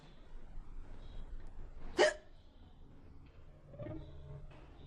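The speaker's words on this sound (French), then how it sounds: "c'est toujours comme ça quand je suis stressée. Je hoquette." A stressed girl lets out a single sharp, close hiccup that stands out against a quiet room, with a soft murmur of a voice just after.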